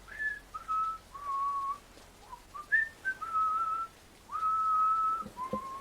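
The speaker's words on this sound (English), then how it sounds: "what sounds like the jovial whistling of someone in front of you" Someone whistles a cheerful, jaunty tune in short melodic phrases with brief pauses between them, clear and fairly close, with no other sound around it.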